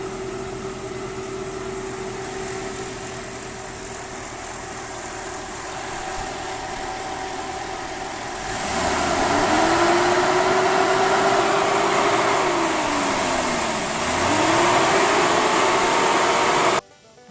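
A Jeep XJ engine fitted with a ZJ fan clutch idles steadily, then revs up into a loud, sustained roar with a rising and falling whine, the fan rushing air hard before it cuts off.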